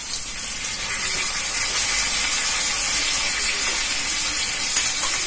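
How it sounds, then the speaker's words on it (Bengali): Soy sauce hits a hot pan of chili soybean with chili powder, setting off a loud, even steamy hiss that holds for several seconds, ending with a brief clatter. "এবার সয়া সস দিয়ে দিচ্ছি"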